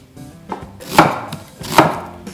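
A knife chops through onion on a cutting board for a ginger pork dish, with several crisp, close, evenly spaced strikes and no talking.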